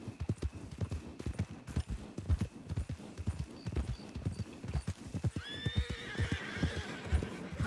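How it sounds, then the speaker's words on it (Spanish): Horses in the RedM video game clop their hooves in a busy uneven rhythm, and a loud whinny rises near the end, all close and with no talk over it. "Gemelos de caballo, qué maravilla."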